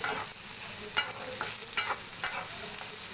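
Green chillies frying in hot oil for a rohu fish curry with lemon, a steady broadband sizzle with a few sharp stirring clicks and spoon scrapes spaced through it.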